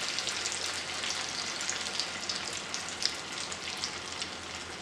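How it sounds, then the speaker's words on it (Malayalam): Egg bajji deep-fries in plenty of hot oil, giving a steady, close, dense sizzle with scattered tiny pops throughout and no voices. "ഓയിൽ കൂടുതലുള്ള കാരണം മറിച്ചിട്ട് കൊടുക്കേണ്ട ആവശ്യമില്ല. അത് അങ്ങനെ തന്നെ കിടന്ന് നന്നായി ഫ്രൈ ആയിക്കോളൂ കേട്ടോ."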